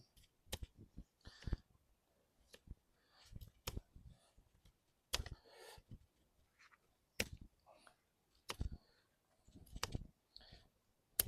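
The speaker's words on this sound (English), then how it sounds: "I'm going to be starting the cut and working down to our stop cut." A knife blade carving a wooden mallet resting on a log, heard as sharp intermittent clicks and chopping taps in an irregular rhythm, close and fairly quiet.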